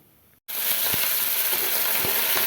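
Loud, steady sizzling of urad dal frying in hot oil starts abruptly after a brief quiet moment, with a few faint clinks underneath.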